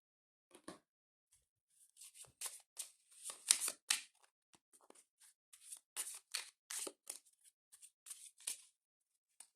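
Oracle cards shuffled by hand for a reading, a run of soft papery riffles and rubbing strokes in irregular bursts, close and fairly quiet with no talking.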